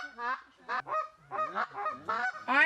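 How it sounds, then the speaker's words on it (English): Geese honk repeatedly during an outdoor waterfowl hunt, a flock calling in a quick series of nasal cries, moderately close and fairly clear. "we spotted our first flock of geese coming right at us"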